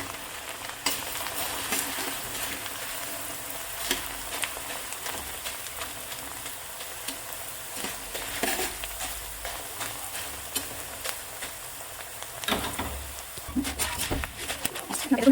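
Leftover rice fries in warm oil in a pan, giving a close, continuous sizzle broken by frequent scraping stir strokes throughout.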